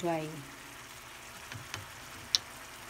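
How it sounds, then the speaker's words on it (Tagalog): Corned beef simmering and drying out in a frying pan with a little oil, giving a faint steady sizzle with a few soft ticks and clicks, and a voice briefly heard at the start. "hayaan lang natin siyang diyang kumulo hanggang sa medyo mag-evaporate siya, yung medyo magda-dry siya"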